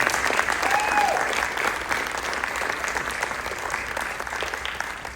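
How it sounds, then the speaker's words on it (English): Applause for the yearbook staff at a school board meeting, steady moderate clapping from a seated audience that continues evenly and tapers slightly toward the end. "How about one more round of applause for our yearbook staff?"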